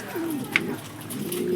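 Domestic pigeons in a Bengali pigeon keeper's loft coo in low, throaty rolling phrases, two drawn-out calls separated by a short gap, close and steady over a faint background hiss.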